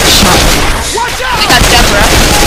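Dense video-game gunfire from a zombie shooter set in mountains fills the clip with rapid, continuous shots at steady loudness, with brief game voices mixed faintly underneath.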